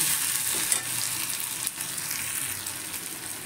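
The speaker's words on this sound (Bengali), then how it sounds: "এখানে দেখুন আমার পেঁয়াজটা ভাজা হয়ে গেছে। এর মধ্যে আমি মশলা দিয়ে দেব।" Fried onions in a pan for dahi paneer sizzle steadily at close range as spices go in, with faint stirring scrapes and no voices.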